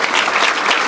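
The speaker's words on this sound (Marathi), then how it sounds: "आम्हाला तुमच्यासाठी टाळ्या वाजवत आहे" An audience at a business and entrepreneurship lecture claps in a short, dense burst of steady applause, near and fairly loud.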